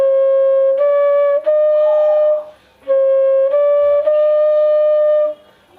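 Flute playing two sustained notes, Pa and Komal Dhaivat, in a slow pair of phrases, each note clear and steady, with a short pause between repeats and no talk.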